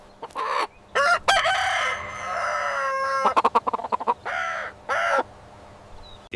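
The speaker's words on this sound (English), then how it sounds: "It's a rooster." A rooster crows loudly and close in a few drawn-out, harmonic calls with short gaps between them, followed by a quicker run of clucks and one more crow.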